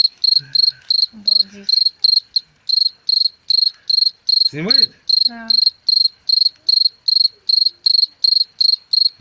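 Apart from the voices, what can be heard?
cricket chirping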